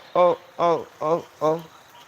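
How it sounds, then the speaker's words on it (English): Four loud, drawn-out croaks at a steady pace, each a rich buzzing call with clear gaps between, close by. "Can you hear these frogs?"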